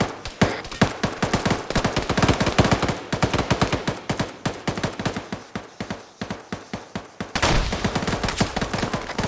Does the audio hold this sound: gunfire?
yes